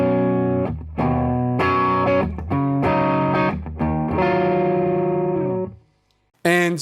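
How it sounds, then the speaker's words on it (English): Electric guitar on the neck pickup with mild overdrive from an Archer pedal and plate reverb plays a melodic solo phrase of sustained, singing notes, stops briefly, then resumes with a short burst. "I'm actually using the Archer just for a bit of overdrive."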